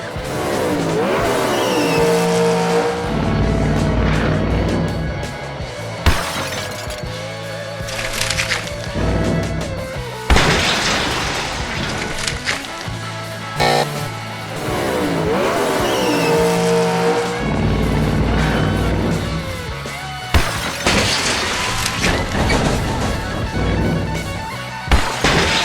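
Hot Wheels toy monster trucks racing and crashing in a pool championship bout, dubbed with loud continuous race-car engine revving, tire squeals and skids, plus sharp crash hits and music throughout.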